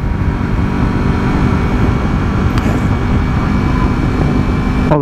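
A Yamaha R3 motorcycle accelerates in third gear, producing a loud, continuous engine drone heavily mixed with wind rush. It holds steady throughout, close and unbroken, with no speech.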